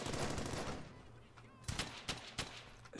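Machine gun fire rattles in the World War II shooter Brothers in Arms: Hell's Highway, a dense roaring burst at first, then several sharp separate shots cracking over a low rumble of battle noise.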